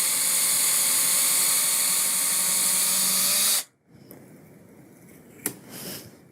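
A power drill bores a strap button hole into a guitar body, a loud steady whine for about three and a half seconds that stops abruptly, followed by quiet handling noises and a small knock.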